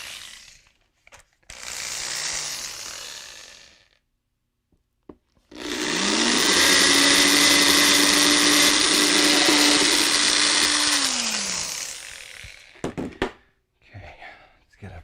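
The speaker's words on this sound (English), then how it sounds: "we're going to drill this hole right here" A power drill bores a hole in one sustained run of about six seconds, spinning up to a loud, steady whine and winding down at the end, with brief talk and handling noises before and after.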